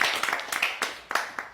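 A small audience claps in a live-streamed Haitian reality show, several irregular sharp hand claps close by and fairly quiet, with a voice faintly mixed in.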